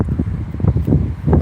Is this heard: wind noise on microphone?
yes